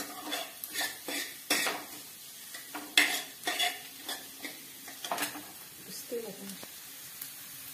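Onion frying in oil with cumin in a pan, a soft continuous sizzle under a string of sharp metallic spatula scrapes and clinks against the pan, up close, with no talk.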